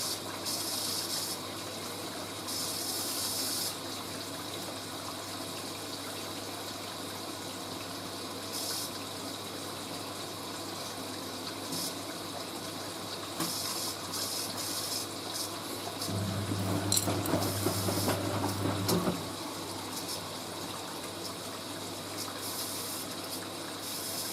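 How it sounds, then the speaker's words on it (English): Continuous rushing of hot water filling a Hoover A3060 washing machine on a woollens 40°C programme, steady and moderately loud, growing stronger for a few seconds near the end before settling back. "I'll let some more hot water go in."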